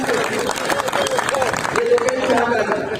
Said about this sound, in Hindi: ताली वाली बजा के बता दिया करो